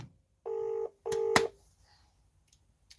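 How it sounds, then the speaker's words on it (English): Two long electronic ringback tones of a telephone call, each about half a second with a brief pause between, clear and alone in an otherwise quiet room, followed by a faint click. "There we go. It's ringing."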